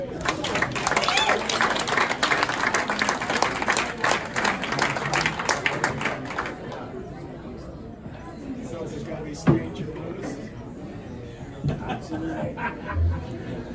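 A crowd applauds and cheers for blues performer Sonny Earl at a Minnesota Blues Hall of Fame event, with dense clapping that fades after several seconds into chatter and scattered laughter.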